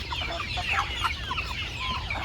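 A chicken clucks repeatedly nearby over a steady background hum, with short bird calls scattered through the scene.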